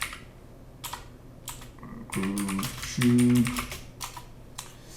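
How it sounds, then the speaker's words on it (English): Typing on a computer keyboard in a mechanical engineering simulation session: a scatter of sharp, close key clicks with a brief run of quick strokes, under a faint hum, with a single spoken word at one point. "So what we can do is we just type in groove"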